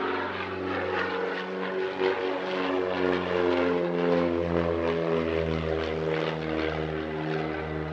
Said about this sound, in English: not afraid to exercise the aircraft's rather sprightly roll rate, as you can see